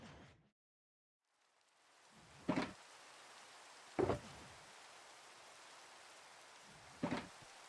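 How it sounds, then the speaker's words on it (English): Rain falls in the video game Minecraft, a soft continuous hiss that starts after a short silence, broken by three louder thumps spaced a few seconds apart. "This is the 3rd time it's rained in the first hour of the stream."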